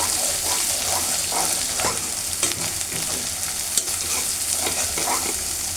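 Spice masala of turmeric, coriander powder and dried chili powder frying in a pan for a bottle gourd and catla fish curry: a steady, close sizzle broken by scattered spatula taps and scrapes.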